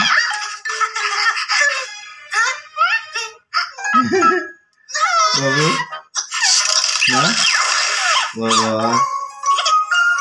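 Close, loud clucking and squawking chick calls in irregular bursts, with short pauses between the busy runs of cackling.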